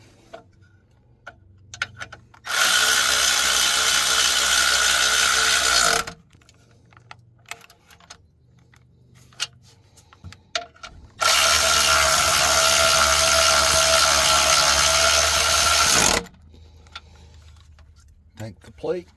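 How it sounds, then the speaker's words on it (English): A Milwaukee cordless ratchet snugs bolts down while a trailer brake control module on a 2018 Silverado 2500HD is being replaced. It gives two loud, sustained whirring bursts of a few seconds each, separated by quiet clicks and handling noises. "Take the Milwaukee Ratchet and snug them back down."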